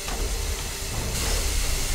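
Steam hisses in the horror video game Black to Fall as a loud, continuous broadband rush that swells slightly partway through, with no voices over it.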